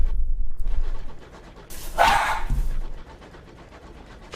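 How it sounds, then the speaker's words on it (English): Dog barking in the distance, likely set off by another dog, with a short burst of barks mid-clip over a low background rumble. "Apparently that other dog has set my dog off."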